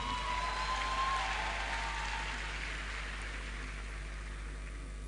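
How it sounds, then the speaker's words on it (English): Audience at a university convocation ceremony applauds in a faint, distant, steady wash of clapping that slowly thins, with a low hum underneath. "A round of applause for Futa."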